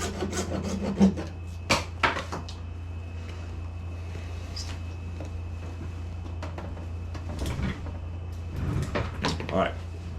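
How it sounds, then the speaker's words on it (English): Coping saw cutting through a plastic guitar kit part, giving quick rasping strokes in short bursts near the start and again toward the end, with quieter stretches between them and a steady low hum underneath. "coping saw in a little bit to get your line started"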